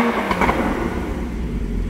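A Porsche Cayman GTS engine revs with its exhaust valves open, a loud, close rumble that swells briefly and then settles into a steady drone.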